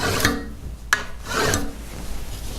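Steel burnisher turning a burr on a card scraper held in a vise: a few close, raspy metal-on-metal strokes with a sharp click between them, no talk.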